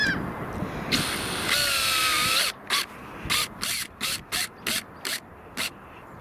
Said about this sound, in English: And I'm going to attach the first screw right now.